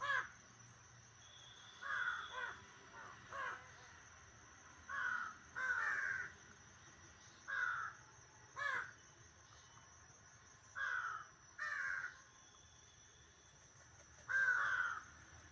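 A wild crow caws repeatedly outdoors in harsh, mid-distance calls, about a dozen short bursts spaced irregularly, alone against a faint steady background hum.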